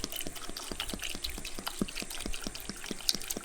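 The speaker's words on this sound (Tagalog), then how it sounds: "Lalagyan lang natin ng tubig." Water is poured into a pot to make ginger tea, a steady trickling pour with a regular dripping, tapping pulse running throughout, close and fairly quiet.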